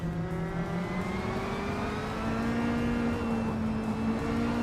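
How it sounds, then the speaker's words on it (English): A 2013 Caterham 620R race car in a racing video game, its engine droning and revving steadily with rising and falling pitch, moderately loud and alone. "Zupasigi is driving a 2013 Caterham 620R, just behind the leaders"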